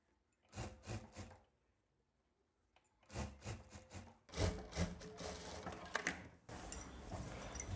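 A sewing machine stitches the back seam of a frock with a quarter-inch seam allowance, running in two quick bursts, pausing, then running again in longer, louder stretches close by.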